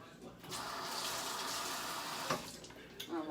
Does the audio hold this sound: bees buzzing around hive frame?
no